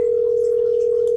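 A telephone dial tone sounds as a call is started on an Aastra desk phone, a single steady, unbroken electronic hum held at constant loudness and heard close and alone.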